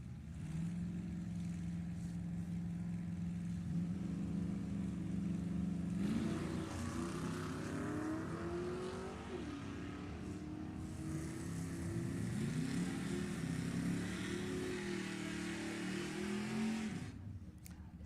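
A 1972 Ford Maverick and a 1969 Mustang with a 351 Windsor at a nostalgia drag race, engines droning steadily, then revving and winding up through rising, overlapping pitches as the cars launch and pull away, heard from a distance.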